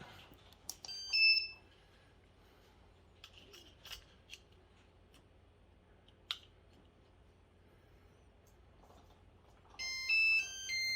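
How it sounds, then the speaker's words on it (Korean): Short electronic beeping tones from a home security system's smoke detector during a test, a brief burst early on and a louder stretch of repeated beeps near the end, with quiet gaps between. "같이 연기 감지기도 같이 테스트를 해봤습니다"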